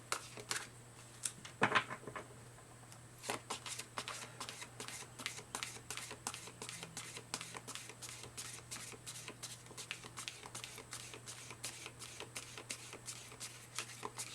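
A deck of oracle cards being shuffled by hand, with a rapid flurry of close, crisp riffling clicks after an initial louder handling sound, continuing steadily, no talking.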